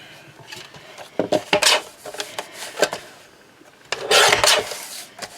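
A paper trimmer cuts the end bits off sheets of paper in a quiet room, making short scraping, rasping strokes in two clusters, the second longer and louder, with faint rustles between them.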